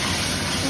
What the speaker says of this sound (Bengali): গরম জল দিয়ে দিই